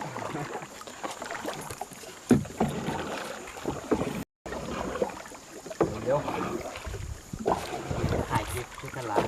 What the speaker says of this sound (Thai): อันนี้คือดูคนพายเรือนะครับ